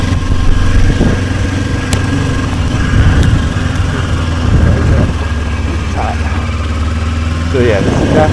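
A 2025 Kawasaki Ninja 500 SE KRT motorcycle engine running close by at low revs with small throttle blips, under a rider's spoken instructions during a training ride.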